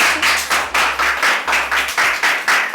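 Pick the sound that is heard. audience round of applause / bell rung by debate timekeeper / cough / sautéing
audience round of applause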